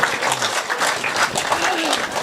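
Dense, continuous applause from a live audience at a Hindi comedy or poetry show fills the room, broad and sustained, with a voice faintly audible beneath it.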